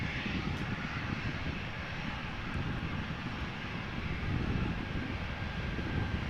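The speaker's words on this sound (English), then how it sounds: "the EasyJet A319 looks to be lining up" An EasyJet Airbus A319, a 14-year-old airliner, lines up on the runway at Amsterdam Schiphol with a steady, moderately loud engine rumble that holds even throughout.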